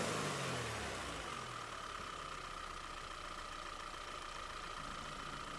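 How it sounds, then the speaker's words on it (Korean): A car engine idles steadily after a repair of a misfire in cylinder 2, a faint, even hum that runs without any gaps and with no voices heard. "엔진 시동이 걸리고 엔진이 흔들리거나 진동이 발생하지는 않는 것 같습니다."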